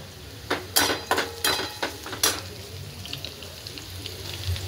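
Chopped onion frying in a pan at home, with a few sharp clatters and stirring scrapes in the first half over a soft, steady sizzle, no talking.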